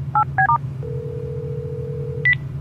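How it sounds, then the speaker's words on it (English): Telephone number dialed on a car phone in an animated podcast, several short two-tone keypad beeps, then a long steady tone and one final higher beep, clear and close over a low engine hum. "While you drive, I'll dial her up on the Larrymobile's Larry phone."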